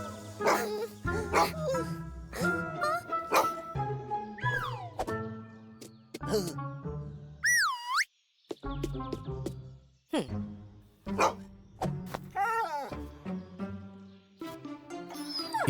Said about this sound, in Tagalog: Hinabol ng aso ang mga magkaibigan, pero nagawa nilang umakyat sa bakod.